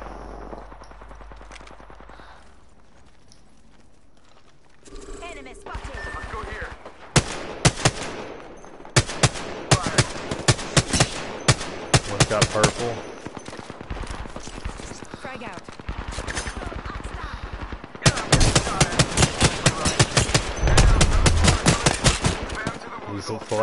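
Players trade gunfire in a video game, with repeated sharp bursts of rapid automatic fire and single shots, loud and close. The shooting comes in clusters over a steady background of game noise.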